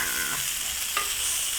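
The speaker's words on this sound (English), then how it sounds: "Sizzle, sizzle." Sizzling from coffee brewing on a camp stove during wild camping in trees above a North Sea beach: a steady, close, broadband hiss with a brief louder flare partway through, and no talk.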